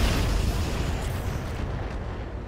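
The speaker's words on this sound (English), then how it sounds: "we're going to fire out the LRMs here." Long-range missiles fire in a mech combat video game, a dense, continuous barrage of booming launches and rumbling blasts that stays loud and close for the whole stretch, with no talk over it.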